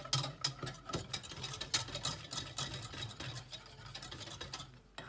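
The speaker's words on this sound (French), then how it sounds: "à l'aide d'un fouet, vous mélangez pour que ce soit uniforme." A whisk beats a flour mixture in a bowl, giving steady rapid scraping and clicking strokes close by, with no one talking.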